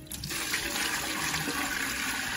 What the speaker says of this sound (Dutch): Dus ik geef hun eventjes een laagje water in de voerbak.